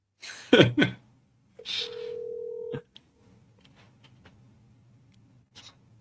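Someone dials a phone number on a phone: a brief rustle, a steady electronic tone lasting about a second, then a few faint, scattered key taps.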